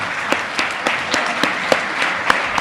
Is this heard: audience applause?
yes